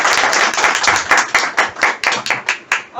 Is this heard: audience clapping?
yes